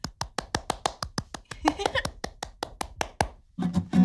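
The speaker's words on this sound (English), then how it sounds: "I'm clapping my hands" Hands clap in a steady, even rhythm, about four claps per second, close and crisp, in a kindergarten Sunday class setting, with a brief soft voice at the end.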